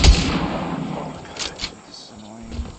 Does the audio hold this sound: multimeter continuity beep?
no